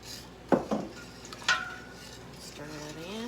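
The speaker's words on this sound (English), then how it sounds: "Stir that in." A utensil stirs white granulated sugar into a mixture in a pot, giving a few clinking scrapes against the side, close and fairly quiet, with a short stretch of voice near the end.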